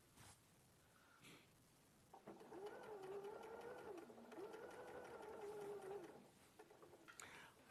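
A sewing machine runs a straight-line stitch around an edge, its motor whirring at a steady pitch for about four seconds with a brief dip midway, quiet and alone, with faint rustling before and after.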